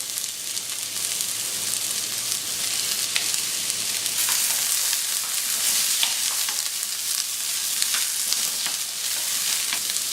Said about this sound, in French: Quand les oignons commencent à bien se caraméliser, eh bien, vous venez ajouter le fenouil.